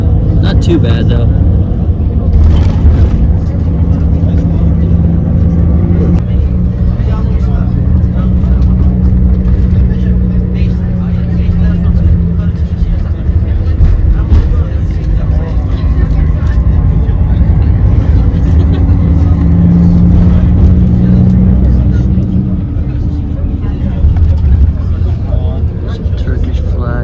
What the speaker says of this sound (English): Highway traffic.